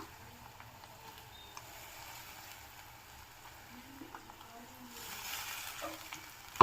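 Potatoes fry in a pan with turmeric and green chilli paste, a faint low sizzle and gentle bubbling that grows brighter and louder toward the end, capped by a short clatter.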